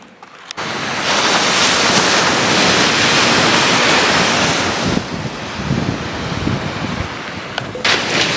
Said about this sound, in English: this is where the North Atlantic Ocean is, right behind us